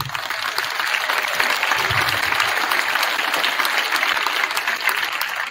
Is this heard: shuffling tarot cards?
no